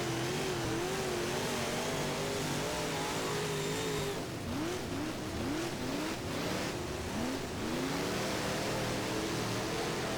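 A UMP modified race car engine in the rFactor racing game revs hard and continuously, pitch sweeping up and down with throttle blips and gear changes, loud and close with no talk over it.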